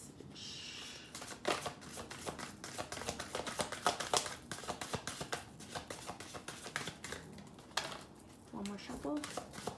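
Tarot cards shuffled by hand in repeated crisp riffles and taps, close and clear, with soft speech at moments.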